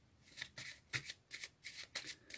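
Playing cards riffled and shuffled in several quick crisp bursts, close up, with brief pauses between each flurry.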